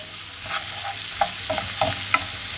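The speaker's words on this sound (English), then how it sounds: "So I'm going to stir it all together" Onion, garlic and zucchini sizzling in a frying pan while being stirred, a constant close frying hiss broken by several soft scraping strokes of the utensil, with no voices.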